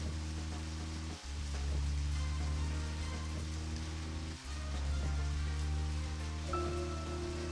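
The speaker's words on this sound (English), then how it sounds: "Harder to drive in the rain than it is in the not rain" Steady, even rain hiss while driving in the video game Deadly Premonition, a constant wash under a low engine-like drone, briefly dipping twice before resuming at the same level.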